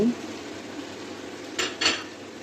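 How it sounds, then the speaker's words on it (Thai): Utensils scrape and clink against a pot of French-style red bean soup with garlic and chopped coriander, in two quick bursts over a steady low kitchen background. "คนให้เข้ากัน"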